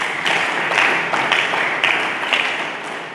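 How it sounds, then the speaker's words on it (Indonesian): A congregation at a church sermon gives a round of applause, steady crowd clapping with occasional louder bursts that stays fairly strong across the short stretch. "Mari kita berikan tepuk tangan."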